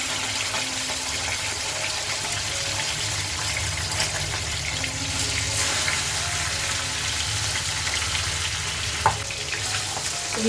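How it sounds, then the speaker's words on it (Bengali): Magur catfish frying in hot oil gives a steady, dense sizzle with crackling spits throughout, close and continuous, with no voices. "তেল গরম হয়ে গেছে এবার মাগুর মাছটা ভেজে নেবো"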